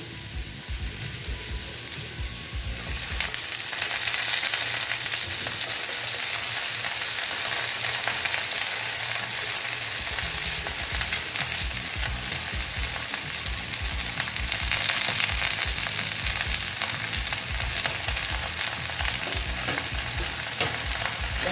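Malabar spinach greens go into a pan of frying potato and pumpkin with sesame. A steady close sizzle turns into louder, rhythmic stirring and scraping for the rest of the stretch, with no talk.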